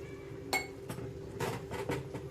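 The lid of a cooking pot is lifted off, producing a few faint metallic clinks and taps spaced across a couple of seconds in a quiet kitchen.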